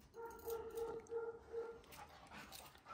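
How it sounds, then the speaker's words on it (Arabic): A dog gives a few short, whiny yips and bark-like sounds at close range, fairly quiet, with no speech over it. "كتسمع الكلب هيا تبدا تنبح"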